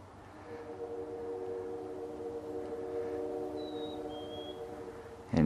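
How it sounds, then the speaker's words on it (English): A distant train horn sounds in snowy mountains, a long, steady, multi-tone blast that holds for several seconds at moderate loudness, with faint high whistling tones drifting in near the end. "That's the train on the Quebec side."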